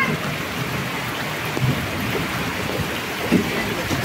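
Torrential rain from a typhoon roars in a steady, dense wash over flooded ground, with a couple of brief low knocks and a faint voice in the background.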